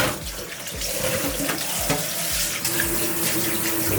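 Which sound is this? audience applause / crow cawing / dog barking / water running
water running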